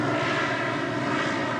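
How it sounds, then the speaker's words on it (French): A propeller aircraft in flight, a replica of the Little Prince's plane, drones steadily with broadband engine and airframe roar, constant and fairly close, with no talk. "C'est un avion qui est un peu délicat à piloter."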